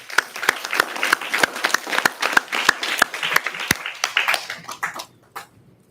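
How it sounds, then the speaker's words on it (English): Audience at a GA4 SGA event in Taiwan breaks into a short burst of hand clapping, dense and lively at first, then thinning out and fading after about five seconds. "So round of applause to them."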